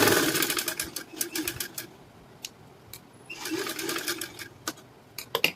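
A sewing machine runs in quick rattling bursts while double-stitching a high-neck blouse, two longer runs separated by a pause and a few short taps near the end, close and clear with no talking.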